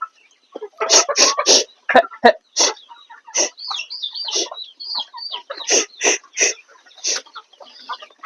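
Chickens on a farm cluck close and loud in a steady stream of short, overlapping calls, with bursts of several birds sounding at once.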